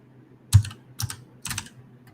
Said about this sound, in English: we're going to type in the DNS type